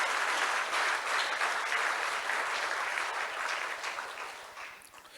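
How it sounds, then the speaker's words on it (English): A workshop audience at a youth agribusiness event claps in sustained applause that gradually fades toward the end, with no voices over it. "So please clap for them"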